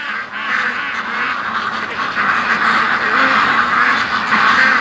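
A flock of ducks quacks continuously and agitatedly in alarm, many calls overlapping at a steady loud level with no pauses.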